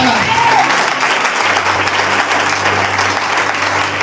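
A church congregation claps and cheers loudly and continuously, dense applause filling the room, with a few voices calling out beneath it.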